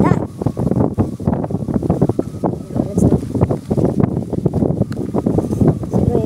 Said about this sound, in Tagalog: Kasi malakas yung hangin dito ngayon eh.